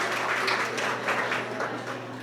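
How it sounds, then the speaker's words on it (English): A ceremony audience at Manchester Community College marks the MCC Foundation's 55th anniversary with a broad wash of clapping from many hands, moderately loud and steady throughout, with no voices over it. "Yes, that deserves a round of applause."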